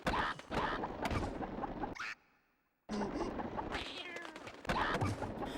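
Repeated loud cartoonish cat meows over busy game noise in ESPN X Games Skateboarding on PS2, broken by a brief quiet gap before the meowing resumes.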